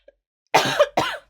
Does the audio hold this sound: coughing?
yes